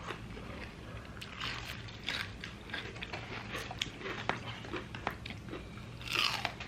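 Someone bites and chews crispy spicy Jollibee fried chicken up close, giving repeated sharp crunches and crackly chewing at a quiet level, with no talk.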